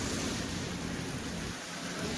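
Heavy rain pouring at Gurudwara Sri Hemkund Sahib: a dense, even hiss of downpour filling the whole clip, loud and close, with no voices.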